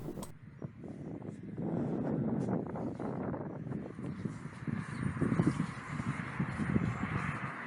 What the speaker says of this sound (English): But yes, it's very windy.